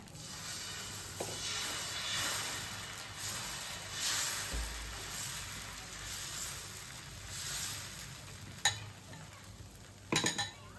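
Thuthuvalai dosa batter hissing faintly on a hot griddle makes a soft, steady sizzle, with a few light clinks and scrapes of a utensil near the end.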